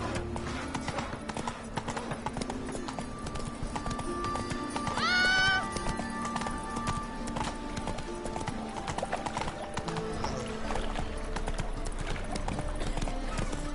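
Roach the horse gallops in a video game, hooves clip-clopping in a quick, steady rhythm throughout, with a brief whinny partway through, all close and clear.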